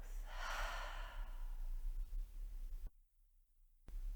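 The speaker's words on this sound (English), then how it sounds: "I invite you to take a nice deep breath through the nose. And an exhale through the mouth." A slow, deep breath drawn in through the nose and let out through the mouth during a trauma-informed yoga session, a soft close airy rush, faint and unaccompanied.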